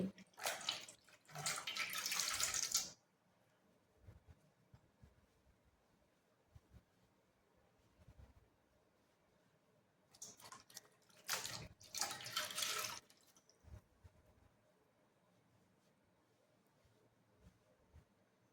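Tap water runs in two bursts while someone washes their face, a steady broadband rush lasting a few seconds each, with quiet splashes and drips in between.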